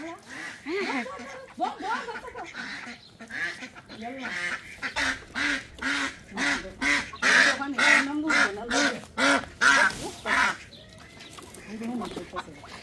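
Newly acquired ducks kept at a rural home quack and honk repeatedly in a loud, rhythmic series of calls, close by, with people talking at times.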